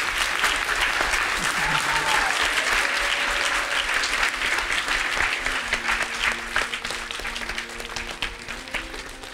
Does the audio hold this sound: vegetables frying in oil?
no